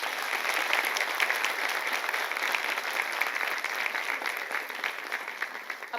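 A crowd at a secondary school's 2024 annual gathering breaks into loud, sustained applause, a thick, even wash of clapping that tapers slightly toward the end.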